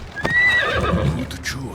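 A horse gives a short, high whinny, followed by snorts and a few soft hoof sounds, close up and clear, in the video game Assassin's Creed Odyssey.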